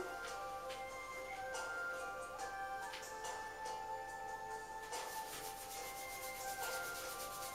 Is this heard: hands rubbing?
yes